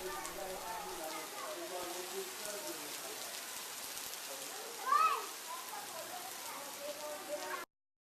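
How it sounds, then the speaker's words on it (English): Steady rain falling in a flood-hit area, a continuous hiss of drops on surfaces holding at an even level throughout, with indistinct voices faintly underneath and one brief louder knock midway. "1 hour later it started raining."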